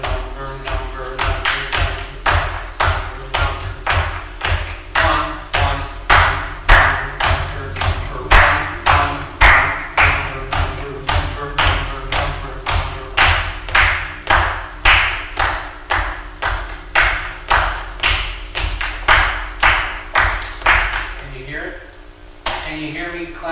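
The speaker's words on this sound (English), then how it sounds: "Can you hear me clap the difference between a 1 and a number?" A single person clapping hands in a steady rhythm during a music theory lesson, with sharp, close, evenly spaced claps repeating throughout and slowing near the end.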